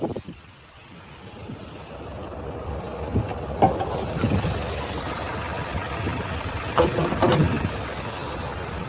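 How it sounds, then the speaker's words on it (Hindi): The 1.5-litre inline four-cylinder Hyundai U2 CRDi diesel with variable geometry turbocharger in a 2022 Kia Carens runs close by, a steady idling rumble with some clicks and rustling, and no voices. "तो ये है 1500 CC inline 4 cylinder CRDI Hyundai U2 diesel engine"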